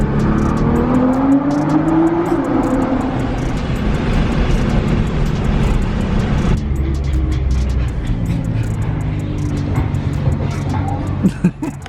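A Nissan GT-R engine roars loudly and steadily, rising in pitch as it accelerates, then settling into a lower rumble with some brief noises near the end.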